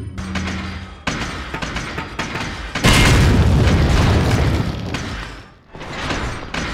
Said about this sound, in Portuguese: Granada dá dano neles? Eu quero testar.